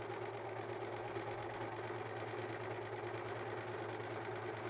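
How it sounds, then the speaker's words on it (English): A serger overlock machine runs straight through fabric edges, a steady, even whir that holds without pause at low-moderate loudness. "I'm just going to serge straight through"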